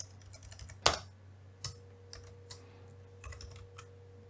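Typing code on a computer keyboard, with scattered key clicks at an irregular pace and one sharper, louder keystroke early on, all faint and close over a low steady hum.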